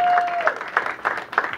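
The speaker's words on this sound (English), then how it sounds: "Go ahead and give yourselves a round of applause for coming out tonight" Audience at a comedy benefit show claps and cheers, with bursts of applause swelling and fading in irregular waves, some voices mixed in.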